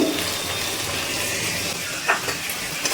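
Spice paste thinned with water hits a hot pan and fries with a loud, steady sizzle and hiss that stays constant, broken by a few faint stirring scrapes.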